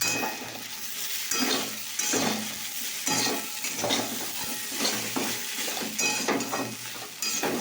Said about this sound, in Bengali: এবার আলু ভাজাটা